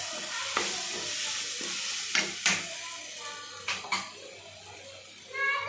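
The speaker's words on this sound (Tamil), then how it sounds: "தக்காளி வதங்கிக்கிறேன்." Tomatoes sauté in a pan for a village-style goat intestine gravy with curry leaves and turmeric, a steady close sizzle broken by several sharp clinks and scrapes of a spoon stirring.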